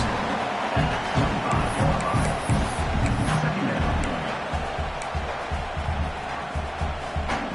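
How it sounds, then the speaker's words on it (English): A large stadium crowd roars and cheers steadily in the final minute of a college football game against Michigan, a dense, distant wash of noise with scattered louder swells. "Tremendous crowd atmosphere now in the final minute of play."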